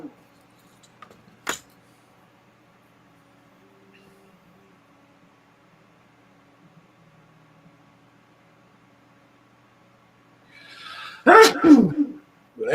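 A loud, close sneeze bursts out near the end after a long stretch of near silence, with a faint, brief earlier sound at the start.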